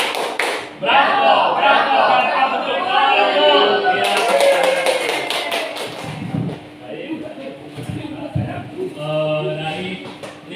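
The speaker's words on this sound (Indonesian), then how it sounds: "Kita tepuk bravo bersama-sama, tepuk bravo." A group performs a rhythmic 'tepuk bravo' clap together, sharp patterned hand claps in a burst around the middle, set against talking and crowd voices before and after.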